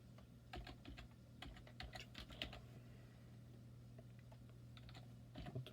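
Quiet bursts of typing on a computer keyboard entering a calculator operation, clustered keystrokes in the first half and sparser taps later, over a constant low electrical hum.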